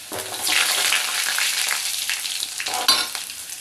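Dried red chilies and crushed garlic hitting hot oil in a pan for a spinach and lentil dish, a loud continuous sizzle with stirring scrapes and a sharp crackling surge near the end.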